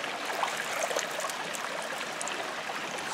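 Fresh mountain spring water streaming steadily out of the rock, a close, even trickle and splash with fine gurgling detail, continuous and moderately quiet, no one speaking.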